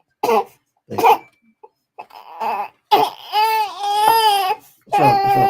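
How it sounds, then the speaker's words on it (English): A few short, sharp coughs close by, followed by a baby's whiny, wavering cries and fussing. "I see you disguising farts with a cough."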